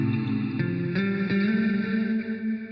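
Electric guitar runs through a stock delay plugin preset, a few sustained picked notes trailing echoey repeats that die away fairly quickly, heard alone at moderate level.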